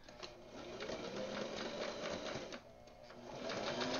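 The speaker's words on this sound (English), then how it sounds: "First, we're going to sew" A sewing machine stitches fabric pieces together for a belt pocket, running with a steady, loud, close mechanical whir and rapid needle chatter through the whole stretch, dipping briefly midway before picking up again.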